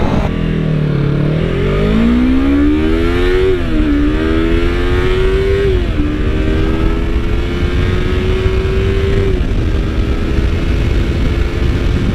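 A 2015 Yamaha R3 motorcycle pulls away hard from a green light, its engine note climbing steeply, dipping at each upshift and rising again through several gears, loud and close amid wind rush.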